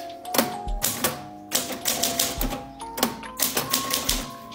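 Keys clack rapidly on a portable travel typewriter from the 1970s or 80s, a close, loud series of sharp strikes in uneven bursts with short pauses between words.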